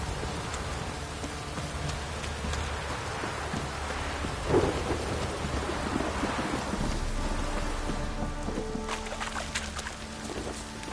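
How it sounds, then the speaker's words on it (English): Steady heavy rainfall pours down in a thunderstorm within The Witcher 3 video game, with a brief rumble of thunder rising mid-way over the constant hiss of rain on surfaces. "Don't stop raining, my arse will rot off."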